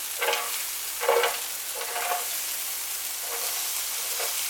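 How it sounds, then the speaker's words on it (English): Onions frying in a little olive oil in a saucepan for an Aussie meat pie filling give a steady close sizzle, with a few louder bursts of crackle as they are stirred, and no voices. "First thing we want to do is put our onions in."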